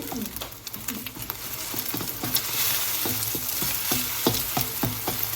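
An egg sizzles and crackles in a hot pan with cold oil just after being flipped, a steady close frying hiss broken by faint scraping and spatter pops.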